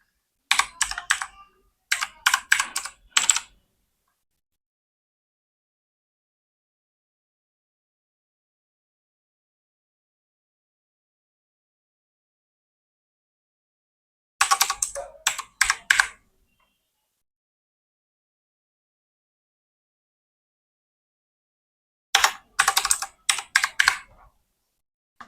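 Someone types on a computer keyboard in three short bursts of quick clicking keystrokes, close and fairly quiet, separated by long stretches of silence.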